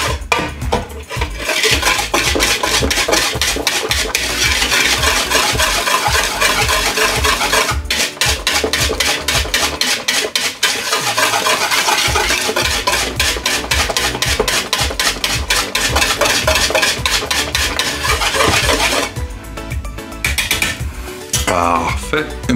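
Crème brûlée mixture being whisked in a bowl, a rapid, steady scraping and clinking of a whisk against the bowl running loud and continuous, easing briefly near the end.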